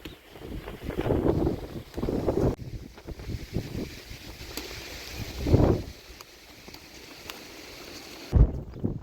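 Gusty wind buffets the microphone outdoors on a travel stage near Galisteo, Spain. Low, rumbling surges rise and fall unevenly, with a stronger gust near the end and no one speaking.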